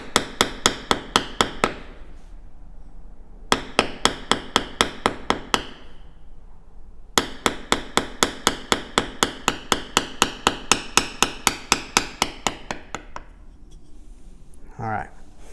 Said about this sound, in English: I'm trying to bevel this line